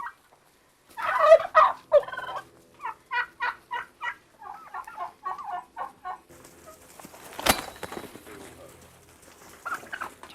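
Heritage turkeys on a ranch gobble in a loud, rapid burst of repeated calls close by, followed by quieter clucking and rustling with a sharp knock near the end.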